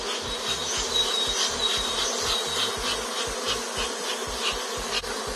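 A honey bee swarm moving through a garden makes a dense, continuous buzzing from many bees, loud and close, with individual bees passing near.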